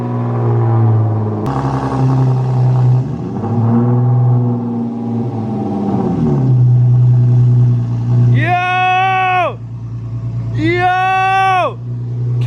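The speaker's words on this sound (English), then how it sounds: "Caleb's car is moving!" A car with a freshly repaired clutch pulls away under its own power, its low engine rumble steady and close, with loud voices cheering and shouting excitedly over it near the end.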